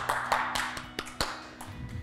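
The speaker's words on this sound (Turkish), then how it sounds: "Kendinizi alkışlayın." Children clap for themselves after an ebru marbling art session, a short scattering of a few separate, fairly quiet handclaps in a small room, sparse and uneven rather than a sustained round.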